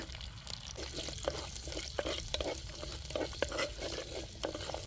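Curry leaves and green chillies crackle and fry in hot oil with mustard seeds, a dense steady sizzle broken by sharp pops and spatters, the clatter of a spoon stirring the pan running throughout, with no one talking.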